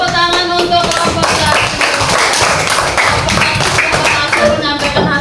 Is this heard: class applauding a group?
yes